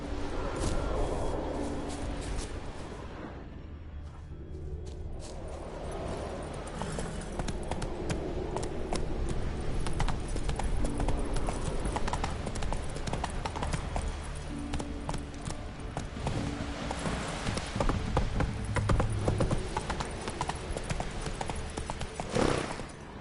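Horse hooves galloping in the video game Witcher 3, a continuous rapid clip-clop running the whole stretch over a busy game soundscape, steady and fairly loud throughout.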